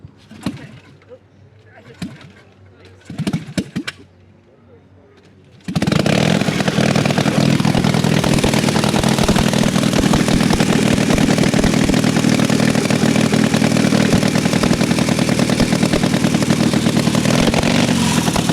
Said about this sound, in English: A 1916 bike. He's getting it running for us